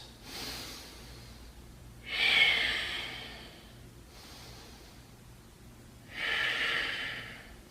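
Forceful breaths during a yoga thigh squeeze in a lower-body workout: three airy, rushing exhales, the second and third louder and longer, separated by quiet pauses.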